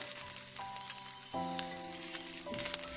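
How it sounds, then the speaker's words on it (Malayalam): Curry leaves and grated coconut fry in hot oil for a Kerala-style chickpea curry, a quiet continuous sizzle with faint crackles and a steady background hum. "ഇനി ഇത് നമുക്ക് നന്നായിട്ടൊന്ന് മൂപ്പിച്ചെടുക്കാം"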